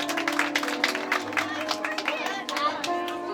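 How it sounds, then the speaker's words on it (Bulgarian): Guests at a wedding clap for the groom Metodi, scattered applause mixed with crowd chatter and a tonal hum underneath. "Аплодисменти за Методи"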